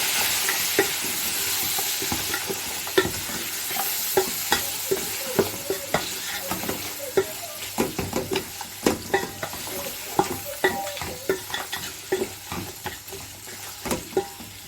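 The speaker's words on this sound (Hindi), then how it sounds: "अब इसके अंदर हम इसको भूनेंगे।" Mutton pieces being stirred and fried for yakhni pulao: a steady sizzle broken by repeated sharp scrapes and knocks of a spoon against the pot, close and fairly regular.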